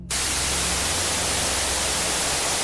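Television static hisses as the channels flip on their own, a loud, unbroken wash of white noise that bursts in suddenly and holds steady over a faint low hum.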